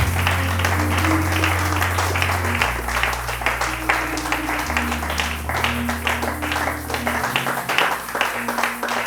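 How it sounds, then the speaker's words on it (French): A church congregation at a Pentecost service claps and cheers for the Lord, a steady wash of applause and crowd voices over sustained organ or keyboard chords, full and close. "Est-ce que tu peux te lever là où tu es et acclamer le Seigneur de grâce?"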